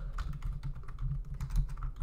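Rapid keystrokes on a computer keyboard while typing a message, a steady run of light clicks with no talking.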